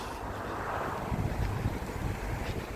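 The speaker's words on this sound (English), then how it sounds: "The wind's picked up and it's gone to a nice cooler temperature." Wind gusts along a canal towpath at dusk, a continuous broad rushing that buffets the microphone with low rumbling swells and no voices.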